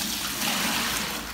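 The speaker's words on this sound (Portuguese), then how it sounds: "Pra nós dissolver a soda. Ó, 3 litros de água." Three liters of hot, freshly boiled water pour into a bucket to dissolve lye for homemade white soap, making a loud, steady splashing rush close by that tapers off at the end.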